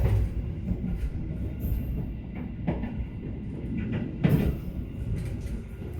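Steady low rumble inside a moving Taksaka New Generation passenger train on the Yogyakarta–Jakarta route, with scattered rail clicks and knocks over a continuous carriage drone.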